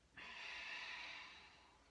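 A deep breath during a gentle yoga practice: one long, airy, steady exhale starting abruptly and slowly fading, soft and close, with no talk.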